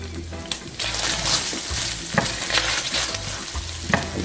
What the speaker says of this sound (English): I'm going to stir this until the garlic is brown.